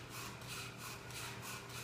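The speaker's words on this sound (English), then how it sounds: "This is just a sawing wood." Wood being sawn for a classroom sound-effects activity, a steady back-and-forth rasp with regular strokes, close and fairly quiet, no talking.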